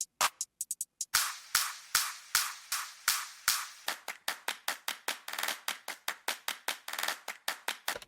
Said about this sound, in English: Let me look up a clap. Look up just a 150 BPM loop real quick.